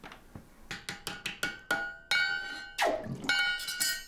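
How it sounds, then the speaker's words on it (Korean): A hammer strikes forged bangjja bronze brassware in a craftsman's workshop, a quick run of sharp metallic blows that settles into a slower rhythm of ringing, bell-like clangs, each tone lingering. "쇠의 모양을 내는 망치질도, 쇠의 강도를 내는 담금질도 모두 노련한 기술이 필요합니다."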